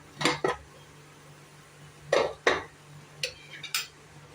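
Lid of a cooking pot of rava pongal lifted, with a few short metallic clinks and knocks in small clusters, close and clear against a quiet hum.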